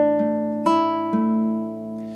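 Acoustic guitar fingerpicking the second measure of an arrangement of a song: three clear plucked attacks with ringing harmonic notes, a loud melody note over softer accompaniment, played close and alone.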